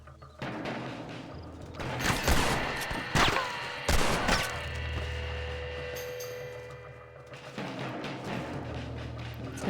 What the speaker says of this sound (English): Shooting at me. They got a good gun, whoever's shooting at me.